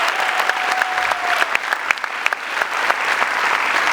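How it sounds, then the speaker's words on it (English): A graduation audience applauds faculty and staff in a steady, dense wash of clapping that holds evenly for the whole stretch, with a few sharper individual claps standing out near the front. "I would really like you to have one more round of applause for all our beloved faculty and staff"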